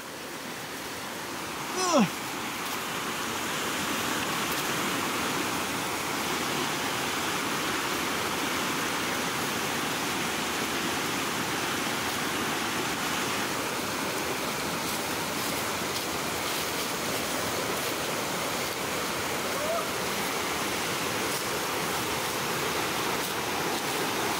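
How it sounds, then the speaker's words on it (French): A small river flows in a steady, broadband rushing wash, close and constant throughout, with a brief knock near the start. "on a trouvé une petite rivière"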